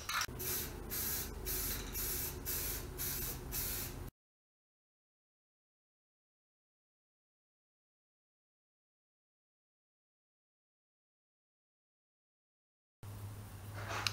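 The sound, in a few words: spray painting primer on rock sliders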